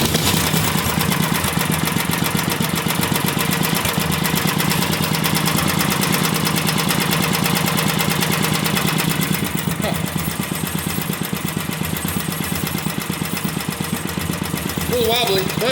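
A free vintage one-cylinder engine runs continuously with a fast, slightly uneven chugging beat, loud and close, holding steady for the whole stretch with no break.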